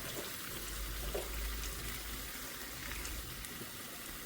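Hot water poured into a pot of rice for a dried-fish (sode) pulao, a soft, steady gushing pour heard faint and close with no speech.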